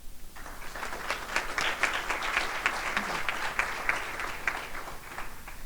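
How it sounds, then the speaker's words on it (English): Sustained audience applause fills an awards ceremony hall at the 2022 Valor Awards, honoring firefighters and first responders; dense, steady clapping from a crowd continues without a break, fairly loud throughout. "Extra round of applause."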